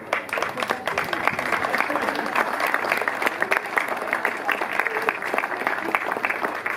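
Sustained applause from a crowd at the inauguration of a village festival in Holtzwihr honours the festival committee, a dense, even clatter of many hands held for several seconds, close and loud with voices mixed in.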